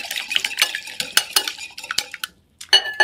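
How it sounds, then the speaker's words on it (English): An egg being whisked in a bowl gives rapid, close clinking and tapping strokes. They pause briefly near the end, then start again. "You're going to break the yolks, whisk the egg."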